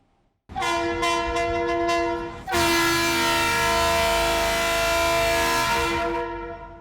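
A tourist train bound for Tatvan sounds its horn for departure, one loud sustained blast that briefly pauses and then swells into a second long, steady blast that slowly fades.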